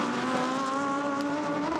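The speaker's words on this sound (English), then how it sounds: "the SMP Racing Ferrari, run out of the AF Corsa stable, goes now through the Curva Grande." The SMP Racing Ferrari GT car, run by AF Corsa, howls through Curva Grande at Monza during Blancpain GT Series Endurance free practice in 2019, a steady, loud, sustained engine tone with no voices.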